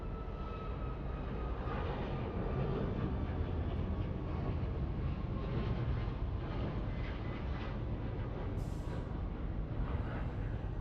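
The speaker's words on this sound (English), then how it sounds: "That was United Airlines 2463 headed to Vegas on a 737 MAX 9" A United Airlines Boeing 737 MAX 9 takes off from the south runways at LAX, bound for Las Vegas, its engines a steady broadband roar held at an even level throughout, with no voices.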